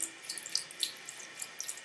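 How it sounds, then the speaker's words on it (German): Tap water runs into a sink while a makeup brush is rinsed clean of foundation, a soft steady stream with small irregular splashes and drips, fairly quiet and close, with no one talking. "Dann gehe ich wieder hier, während das Wasser läuft, nur kreisen bewegen drüber"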